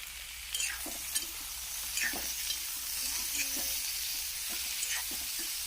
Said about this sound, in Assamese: বুট দাইলখিনি এড কৰি তাত ভালকৈ তিনিওটা একেলগে আকৌ ভালদৰে ভাজি ল'ম